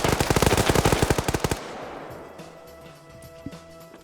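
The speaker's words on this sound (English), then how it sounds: "Trying to get some shots on Bear." Automatic gunfire in the Arma 3 military shooter, a rapid burst of loud, evenly spaced shots for about a second and a half, then fading echo with a single later report.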